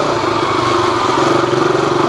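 A KTM RC 200 sport motorcycle engine runs steadily at the start of a ride, close up, with a constant droning note and no talking over it.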